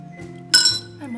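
A glass of cranberry juice gives a single bright, ringing clink, loud and close, that fades over a fraction of a second against a quiet room.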